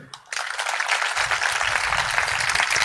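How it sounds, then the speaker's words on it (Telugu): A church congregation at a new church inauguration in Mellavagu bursts into sustained, dense hand clapping after a brief pause, loud and steady throughout with no talking over it. "చప్పట్లు కొట్టి దేవుని మహిమపరచండి"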